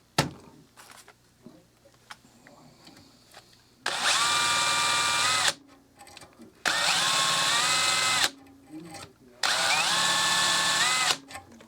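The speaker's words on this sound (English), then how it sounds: "I'm going to go ahead and jewel that now" A drill jewels a rifle bolt in three loud, even bursts of whining spin, each lasting a couple of seconds and separated by quiet gaps with faint handling noises.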